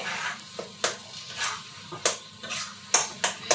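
Dal makha stirred and mixed in a pan with a utensil, making a steady run of soft scraping strokes punctuated by sharp metallic clinks against the pan's side.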